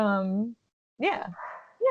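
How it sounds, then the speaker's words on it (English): A pet dog barking indoors, loud and close: one sustained howling bark, a pause, then a couple of sharp yipping barks with a brief whine between them. "That's my dog. He's chiming in."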